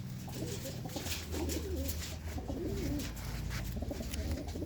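Racing pigeons cooing close by, several soft throaty coos repeating in a loose rhythm over a low background hum.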